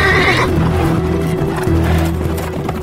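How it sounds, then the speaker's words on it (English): Panicked horses neigh loudly in a dramatized German folk tale, a close shrill whinny that drops into a lower rumbling snort and continuing agitated breathing. "The horses were in such panic that they threw the brothers onto the ground and ran off neighing loudly."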